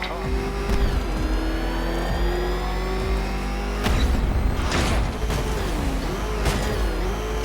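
A ramshackle car motor revs hard, its pitch rising and falling in repeated surges with sharp thumps in between, loud and close, with voices mixed in.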